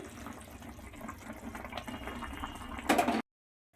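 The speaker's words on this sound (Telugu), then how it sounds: "ఇప్పుడు ముందుగా ప్రిపేర్ చేసుకున్న పాలు కూడా దీంట్లో యాడ్ చేసుకుందామండి" Milk being poured into a pan while making Hyderabadi double ka meetha, a steady liquid splashing that swells louder near the end before stopping abruptly.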